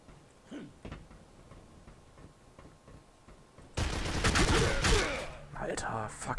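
Rapid bursts of gunfire from the video game District 187 erupt partway through, loud and dense with sharp overlapping shots, after a quieter stretch of faint clicks and ticks; a voice is heard speaking briefly.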